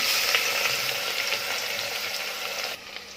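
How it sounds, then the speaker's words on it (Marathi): Crushed garlic fries in hot oil in a pan, a steady, fairly loud sizzling hiss that continues without talk and drops slightly near the end. "तेल गरम झालेलं आहे लसण घालून घ्यायचं"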